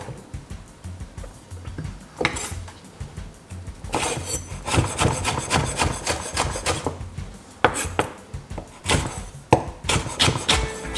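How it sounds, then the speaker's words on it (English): A spoon scrapes out the soft middle of a vegetable for a healthy dinner salad, giving repeated rough scraping and knocking strokes against the flesh, close and moderately loud, in uneven bursts with no talking. "you can simple use a spoon and scrape out the middle bit"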